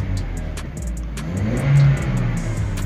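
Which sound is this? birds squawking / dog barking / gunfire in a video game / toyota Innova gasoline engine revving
toyota Innova gasoline engine revving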